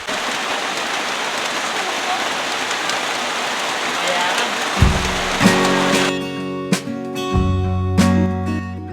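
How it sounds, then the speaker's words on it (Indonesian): Heavy rain pours steadily at a hiking registration post on the trail to Lembah Ramma, a dense close hiss filling the scene, with ringing tonal sounds joining over the last few seconds. "Menunggu hujan yang tak kunjung redah, kami menyempatkan waktu mengisi perut"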